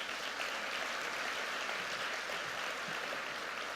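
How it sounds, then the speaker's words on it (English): Steady applause fills a large hall during a city's annual address, a dense, even patter of many hands clapping at moderate volume with no talk over it. "I think they deserve another round of applause."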